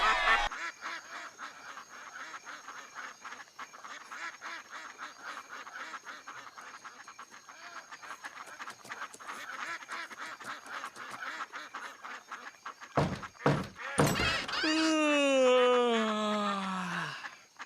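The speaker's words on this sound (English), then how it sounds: "These quackers are keeping me up." Ducks quack in a loud, close burst of drawn-out, groaning calls at the end, after a long stretch of faint, scratchy crackling noise.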